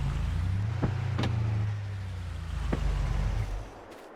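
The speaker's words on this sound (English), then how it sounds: "Back the truck a little out of the way here." A truck backs up in Farming Simulator 22 on an Elk Mountain Wyoming farm map, a steady low engine drone with a few sharp clicks and a brief bump before the engine winds down near the end.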